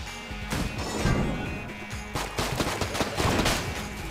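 Barrels explode amid rapid gunfire in Enter the Gungeon, loud bursts and crashing blasts piling up in quick succession, with dense volleys of shots between the explosions.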